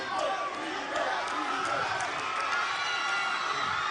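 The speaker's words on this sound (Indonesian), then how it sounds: "Tepuk tangan buat mereka." A large crowd cheers and applauds an Indonesian Asian Games sports team at an indoor ceremony, a dense, steady roar of clapping and shouting that fills the whole stretch, with voices mixed in.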